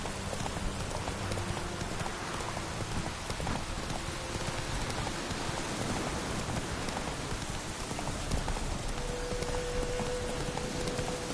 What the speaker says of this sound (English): foes have brought us rain